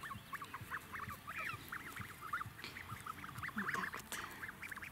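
A flock of white-feathered Linda breed domestic geese calls in a steady run of overlapping honks and quacking notes, moderately close, against a noisy outdoor village background with no talking.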